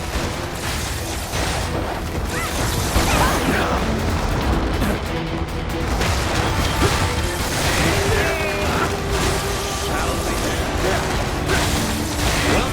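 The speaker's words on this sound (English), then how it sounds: "Explosion detected in enemy abductor." Explosions and heavy combat in the video game Freedom Wars Remastered, a dense, loud continuous roar of blasts, crashes and mechanical clatter with speech mixed in.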